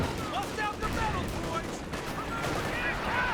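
M1919 machine gun fire in a Company of Heroes 2 battle, a steady crackle of gunshots under continuous commentary with distant battlefield noise and scattered pops.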